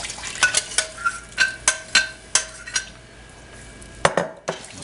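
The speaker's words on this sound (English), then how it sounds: "Stir this up really well." A spoon clinks and taps repeatedly against a metal pot while milk and broth are stirred into ham and potato soup, sharp close strikes in an uneven rhythm with brief pauses, no talking.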